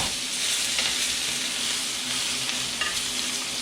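Steak and scallops sizzling in a hot pan with thyme, a continuous loud frying hiss with faint crackles, steady and close with no voices.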